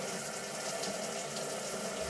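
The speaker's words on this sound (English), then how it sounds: "So I'm going to run it under a hot tap over here." Hot water runs steadily from a tap in a continuous, even hiss and splash, close by and alone with no voices.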